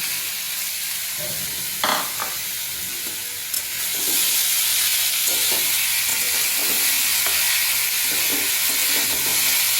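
Apple chutney being stirred in a pan with a ladle, a steady sizzle and bubbling broken by light scraping and clinks of the ladle, rising to a denser continuous hiss halfway through, with no talking.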